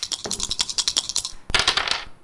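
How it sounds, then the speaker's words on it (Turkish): Dice roll during a Turkish quiz board game, a quick run of light clattering ticks followed by a second burst of rattling as they tumble and settle, close and fairly loud with no talk. "Buyurun dönüyor zarlar."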